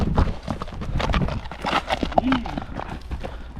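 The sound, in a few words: horse hooves clip-clopping as it turns in place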